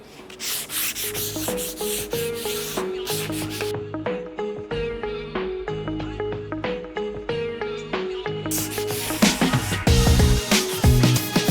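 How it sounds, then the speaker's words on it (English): Sandpaper rubs back and forth along the edge of a ceiling panel in a VW Crafter campervan conversion, a loud, close, steady rasping scrape that continues without pause. "We're going to sandpaper around the edge so there's nothing to stick through our sheeting."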